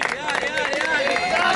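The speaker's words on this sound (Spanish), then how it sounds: "¡Aplauso!" Audience at a freestyle rap battle in a tournament: a dense crowd roar of cheering and clapping, loud and close, with shouting voices mixed through it.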